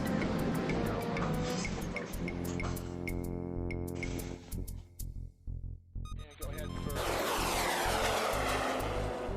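Aircraft engine droning steadily in a video game during a high-altitude cruise, a loud tonal hum with layered harmonics, briefly dipping and fluttering mid-way before surging back to full power.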